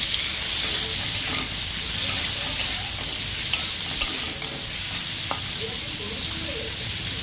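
Mango pieces fry lightly with salt and turmeric in a pan, a soft continuous sizzle with occasional spatula taps and stirring clicks, close and steady.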